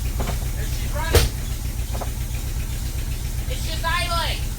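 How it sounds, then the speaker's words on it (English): A carbureted 1984 Dodge Mini RAM, parked for 25 years, idles with a steady, loud, rhythmic rumble while missing and not running on all four cylinders. Someone talks briefly over it. "It's just idling."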